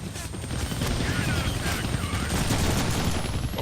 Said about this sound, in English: I can't kill that chopper with my guns, but I can scare him